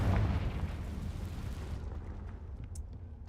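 A Confringo spell explodes in the Hogwarts Legacy video game: a loud, deep blast with a rumbling roar that slowly fades over a few seconds, ending in a few faint sparkling crackles.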